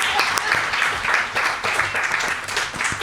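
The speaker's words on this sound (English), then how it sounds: "Okay, can I get a round of applause?" A live podcast dinner crowd breaks into steady applause, many hands clapping in a dense, continuous wash that stays loud for a few seconds.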